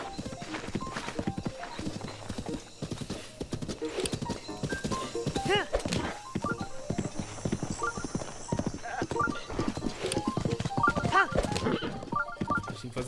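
Horse hooves clip-clop steadily at a gallop in Zelda: Breath of the Wild, a close, continuous rhythmic patter running under game music, with a brief whinny.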